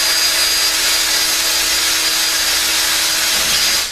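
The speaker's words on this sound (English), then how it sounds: "start a pilot hole and begin drilling" A loud, close drill grinds continuously through a sink, boring a pilot hole, a harsh steady whine that cuts off at the end.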